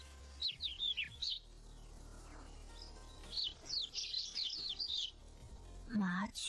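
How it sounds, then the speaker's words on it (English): Sparrows chirping in short bursts of quick, high twitters, with a louder call near the end over a low background rumble. "Sparrows."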